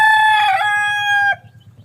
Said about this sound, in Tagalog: lalaking manok na yan, hiniram ko yan sa kapitbahay namin dito